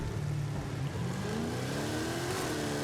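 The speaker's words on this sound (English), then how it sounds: "all you have to do is hold down the brake and the gas, and then let off the brake, and it'll launch" Ford Mustang Boss 302 with a 1500 hp drag tune in Forza Horizon 5, launching from a standstill: a steady loud engine drone rises in pitch as it accelerates, with no talk over it.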